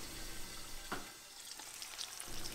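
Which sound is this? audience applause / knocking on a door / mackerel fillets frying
mackerel fillets frying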